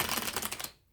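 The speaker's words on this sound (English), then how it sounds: "2 more shuffles and we will begin" Tarot cards are riffled in a quick shuffle, a rapid run of crisp flutters and papery clicks lasting under a second before stopping abruptly, heard close and alone.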